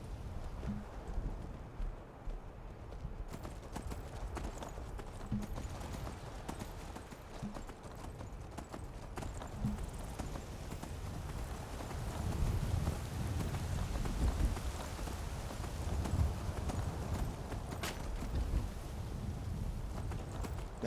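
Horse hooves clip-clop at a steady walking rhythm in modded Skyrim survival mode on the road out of Whiterun. The hoofbeats stay faint and regular over a soft wind- or rain-like background hiss.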